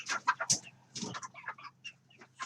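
A lone chicken being weighed clucks in a string of short, sharp bursts with a higher squawk early on, close and fairly loud, the calls spaced irregularly with brief pauses between.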